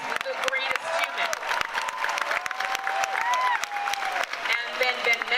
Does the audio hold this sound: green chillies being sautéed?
no